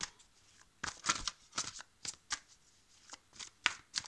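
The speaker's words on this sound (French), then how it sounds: "je vais couper une carte pour le mois de janvier pour les Verseaux" Tarot cards are shuffled and cut by hand, a close series of quick riffling flutters and soft slaps in uneven bursts, quiet and with no one talking.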